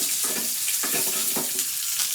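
Curry leaves and a single dried red chilli crackle in hot oil for a tempering for senagapappu chutney, a steady close frying hiss running through with small pops, no voices.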